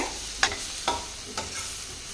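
Vegetables for vegetable fried rice being stirred in a pan, with three distinct scraping strokes spaced evenly apart over a faint background sizzle.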